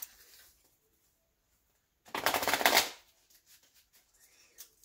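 Tarot cards shuffled in one brisk riffle lasting under a second, close and fairly loud against an otherwise quiet room.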